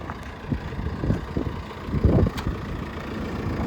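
A JCB 3CX backhoe loader's diesel engine rumbles as the machine drives around, a low uneven throb with bumps and swells, heard outdoors with some wind buffeting the microphone.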